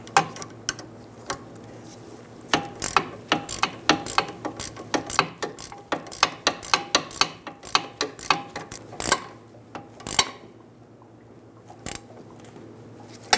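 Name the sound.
15mm wrench tightening sway bar link nut on Subaru Outback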